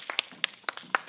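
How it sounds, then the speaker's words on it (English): Small audience applauding at a high school debate, a sparse scattering of distinct hand claps from a few people, fairly close and uneven in rhythm. "Let's give a round of applause."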